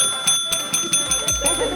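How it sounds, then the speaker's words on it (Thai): A quiz game bell buzzer is pressed repeatedly, giving about seven evenly spaced bright metallic dings that ring close and clear over a low hum and a faint voice. "เมื่อทำเสร็จให้กดกระดิ่ง"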